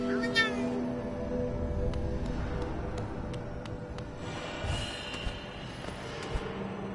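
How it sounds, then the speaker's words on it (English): A pet cat named Echo meowing faintly a few times over steady background noise from a game stream, with no talking. "You're my favorite kitty in the world."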